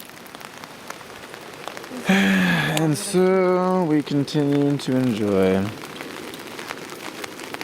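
Rain patters steadily at night on a campsite in Korea, a constant close hiss of drops on surfaces throughout, while someone talks over the middle stretch.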